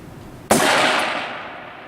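A single crisp shot from a Ruger AR-15 rifle fired at a 500-yard target outdoors, a sharp loud crack followed by a rolling echo that fades over a second or so.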